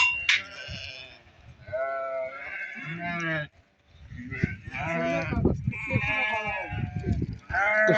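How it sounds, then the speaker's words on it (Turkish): Lambs and sheep bleat at a livestock sheep market in Barda. Several loud, wavering calls come close, one after another and overlapping, with a short quiet gap partway through. "Görün ne güzel kuzuları var."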